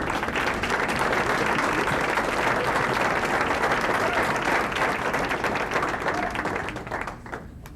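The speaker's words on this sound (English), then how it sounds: "Another round of applause while they're leaving." Sustained applause from a crowd at a school board meeting, loud and steady for several seconds before tapering off near the end.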